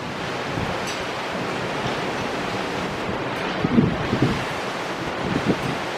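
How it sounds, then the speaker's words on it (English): Strong wind in Macau the morning after a typhoon roars and buffets the microphone continuously, with a few louder gusts toward the end. "It's pretty windy though."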